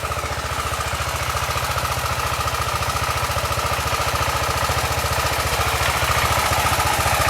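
An old tractor engine runs steadily while hauling firewood along a wooded path, giving a loud, continuous low putter with a fast, even chugging rhythm and no talk over it.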